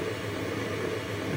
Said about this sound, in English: Pin 39, base missile.